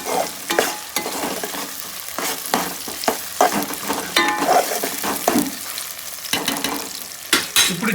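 Onions and ginger sizzle in a pan for a simple chicken curry, stirred in bursts that bring repeated scraping and clattering strokes over a constant close fry.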